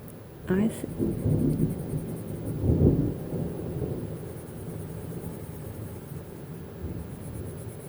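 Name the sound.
thunderstorm with thunder rumbling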